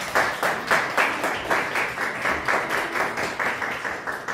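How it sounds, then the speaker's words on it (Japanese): Audience at a Japanese music recital clapping to welcome a performer, a distinct rhythmic wave of applause with individual claps pulsing regularly, fairly close and unbroken. "拍手でお迎えください。"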